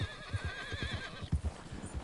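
A horse in Red Dead Redemption 2 lets out a loud, wavering neigh over a quick run of close hoofbeats that thud rhythmically underneath.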